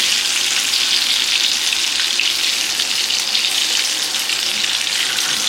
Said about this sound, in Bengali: ডিমটা ভালো করে ভেজে নেবো, নাহলে ভালো লাগবে না।